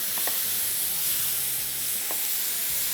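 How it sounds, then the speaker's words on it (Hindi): Onion and tomato frying on high heat in a pan for a Pakistani omelette, a loud, constant sizzle with a few faint utensil clicks and stirring scrapes, no voices. "अब इसको तेज़ आंच पे चंद मिनटों के लिए फ्राई करेंगे, 3 मिनट मैक्सिमम।"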